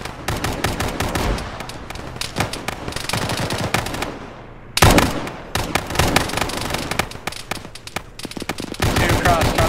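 Suppressing machine-gun fire in the ArmA combat game: loud, rapid automatic bursts rattle almost nonstop, broken by one short pause midway before the firing resumes just as dense.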